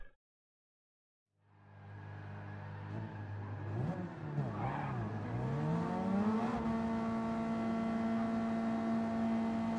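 Race cars in a Gazoo Racing GT Cup video game race, with a steady engine drone that builds and revs up as the cars get going, then holds at a high, sustained pitch throughout. No talking.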